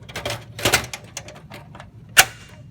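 A hard drive is pushed into a computer case during a PC build, giving a cluster of light plastic rattles and clicks followed by one sharper snap as it seats, close and fairly loud.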